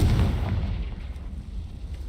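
The Confringo fire spell bursts in Hogwarts Legacy with a deep, booming explosion that swells up loud at first and then rumbles away over about two seconds.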